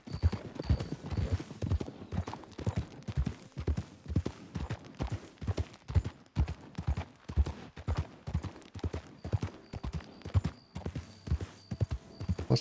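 Horse hooves galloping in Red Dead Redemption 2, a steady rapid clip-clop stride repeating throughout at moderate loudness, with no talk over it.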